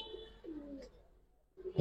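A giribaz pigeon gives a couple of soft, low coos close by, separated by a brief quiet pause, with a faint rustle at the end.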